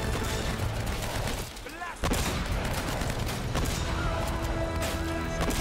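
Heavy gunfire crackles in dense, continuous bursts in the video game Uncharted: Drake's Fortune as an enemy shoots his own men; the volume briefly dips and then returns loud and sustained.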